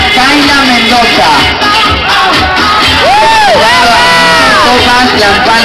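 Audience at a Miss Gay Lanzarote 2011 pageant cheers and whoops loudly for a contestant during the swimsuit round, with shrill shouts rising over a dense crowd roar and an announcer's voice amplified over the top.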